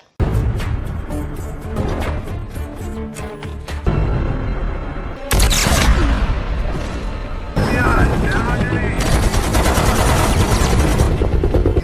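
Rapid bursts of gunfire and booming impacts crash over a loud, dense action-film soundtrack, with voices mixed in.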